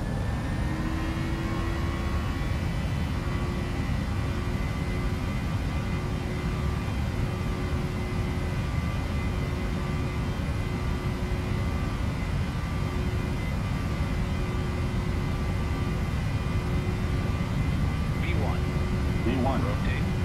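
A PMDG 737NG jet takes off from Oslo runway 27 in a flight simulator, with a steady loud engine roar and a high whine holding throughout while people talk over it.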